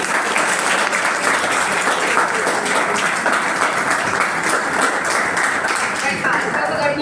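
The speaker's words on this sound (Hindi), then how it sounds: "एक बार जोरदार ताली हो जाएगी।" Loud, dense applause from an audience at an event honouring a selected UP Police candidate, steady clapping continuing throughout with some voices mixed in.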